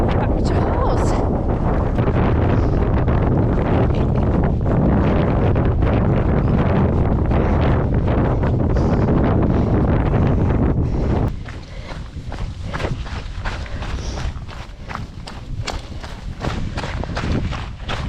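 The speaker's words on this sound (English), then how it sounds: "Oh, it's windy over this side." Strong wind on a hillside during the Yorkshire Three Peaks ultramarathon buffets loudly against the microphone in a roaring, continuous rush that eases somewhat toward the end, with gusts still pushing through.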